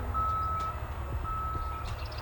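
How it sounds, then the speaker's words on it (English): Steady electronic reversing beeps from a truck at a nearby house construction site, two long tones at an even pitch over a low rumble of background noise. "sorry about the beeping."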